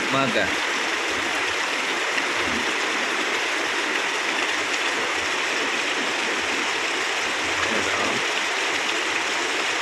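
Steady morning rain in May hisses down continuously, a dense even wash of sound with faint background voices underneath.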